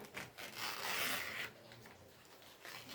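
A long leaf torn apart by hand, a quiet close rip lasting about a second, followed by faint rustling.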